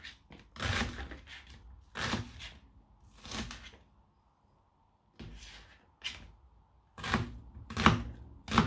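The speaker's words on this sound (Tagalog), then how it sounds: "onion or sibuyas. Gayatin lamang ito, guys. Maliliit." A knife chopping onion into small pieces on a cutting board, irregular bursts of close, crisp cuts separated by short pauses.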